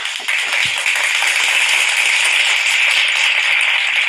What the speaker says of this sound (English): please give a big round of applause to all the research mentors and also team members